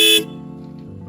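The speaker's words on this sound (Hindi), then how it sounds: "पहले सुनाते हैं आपको इसकी स्टॉक हॉर्न की आवाज़।" Stock horn of a Royal Enfield Continental GT 650 motorcycle gives one loud, steady honk for about a fifth of a second, then cuts off, leaving a low engine hum underneath.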